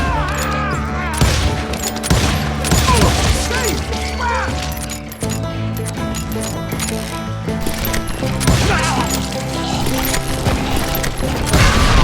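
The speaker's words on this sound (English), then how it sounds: "Sounds like Garrett hired a whole regiment of hired guns" Dense rapid gunfire from the video game Call of Juarez: Gunslinger, with bursts and rattling shots, mixed with crashes and music-like tones, continuous and loud throughout.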